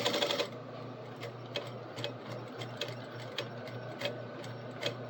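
A sewing machine stitching a hem in fabric, a quick steady run of needle clatter with soft rhythmic ticks, close and fairly quiet.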